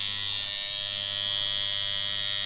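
A JDMFG Anvil MK1 rotary tattoo machine with a 3.5 mm stroke runs alone at close range, giving a continuous, even electric buzz with a high whine and no speech.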